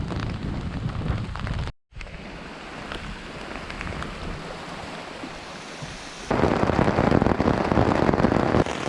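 Rain falls steadily at a wilderness campsite on North Tea Lake in Algonquin Provincial Park, a broad constant hiss with a brief dropout, then growing louder and denser toward the end.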